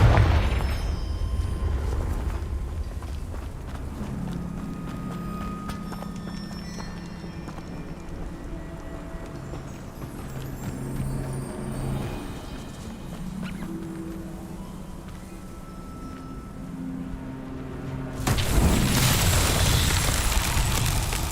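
Confringo fire spells burst in Hogwarts Legacy, with loud blasts at the start and a heavy boom near the end framing quieter rumbling game ambience and tonal effects in between.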